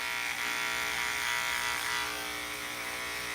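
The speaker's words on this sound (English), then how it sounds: "So then you come back in with the clipper and see if that helped a bit." Electric clippers buzz steadily and close up while working through a dog's matted fur, a continuous high-pitched motor whine with slight fluctuations and no talking.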